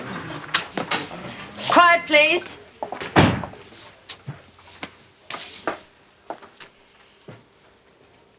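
A door is pulled shut indoors in a busy office setting, giving a dull thunk among scattered bumps and footsteps, while people talk briefly over it.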